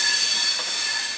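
Passenger train on the Konkan railway near Karmali, Goa, rolling steadily with a hissing rush of wheels on track heard from inside a carriage, loud and continuous with no talk.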